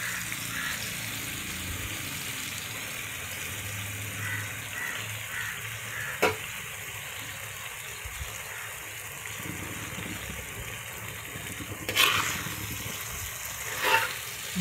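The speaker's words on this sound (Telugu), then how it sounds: "బాగా ఎగ్స్ గ్రేవీ బాగా మిక్స్ చేసుకోవాలి" Steady sizzling of eggs being mixed into frying tomato gravy, a continuous close hiss with a few sharp clinks of a utensil against the pan.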